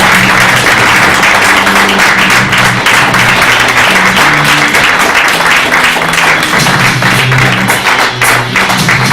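Loud, dense audience applause and clapping filling the whole stretch, with cheering voices mixed in beneath the continuous patter.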